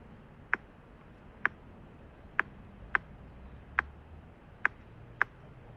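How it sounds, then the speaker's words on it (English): A rock used as a drumstick strikes a hard surface, making seven sharp, bright clinks spaced evenly about a second apart, close and distinct against quiet outdoor background. "I used a rock instead of a stick, and it made a cool clinking sound like this."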